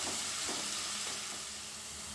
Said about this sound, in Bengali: পেঁয়াজটাকে ভালো করে একটু ভেজে নিতে হবে